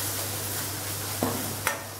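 Yam masala sautéing in oil in a pan, a soft continuous sizzle with two brief scrapes of a spatula near the end, close and quiet, no speech.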